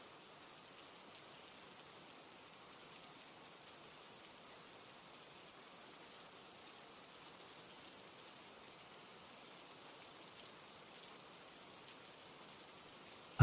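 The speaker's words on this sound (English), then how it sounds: "Rain" Steady rain falls continuously, an even hiss of drops on surfaces with no breaks or other sounds, soft and constant throughout.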